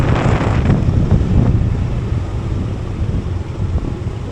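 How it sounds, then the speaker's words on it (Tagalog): Strong typhoon wind roars and buffets the microphone continuously, a loud, rumbling gusty noise with no voices. "Lakas ng hangin."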